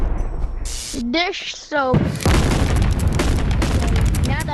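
Fireworks going off during a firework test, a dense run of sharp bangs and crackling bursts following short whistling launches, loud and close with a voice speaking briefly over the start.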